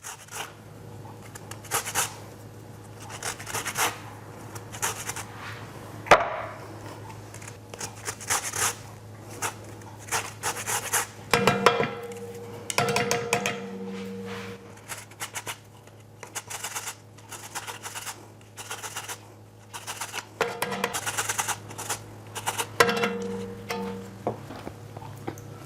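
Lemons being zested for mulled wine, with repeated rasping, scratchy strokes in irregular bursts close to the microphone over a low steady hum, no talk.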